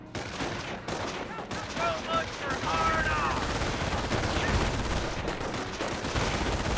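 Captured German MG42 machine gun firing in Company of Heroes 1, rapid bursts of automatic fire mixed with other battlefield gunfire, continuous and moderately loud.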